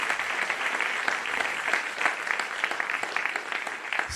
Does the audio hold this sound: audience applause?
yes